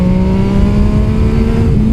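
An MV Agusta Superveloce 800 motorcycle accelerates in second gear, its engine a steady, loud drone that climbs gradually in pitch over two seconds, with no talking.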